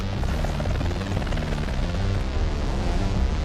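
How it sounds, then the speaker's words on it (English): Helicopter in the video game War Thunder, a steady, loud rotor thump and engine drone that runs continuously and evenly throughout, with no voices over it. "I thought War Thunder was like a machine game where you like play as the helicopter and the tanks and stuff."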